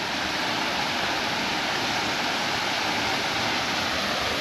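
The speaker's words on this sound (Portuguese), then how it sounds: "Olha como é bonita essa queda d'água." A waterfall in Portugal roars steadily and close by, a dense, unbroken rush of falling water that holds the same loudness from start to finish, with no voices over it.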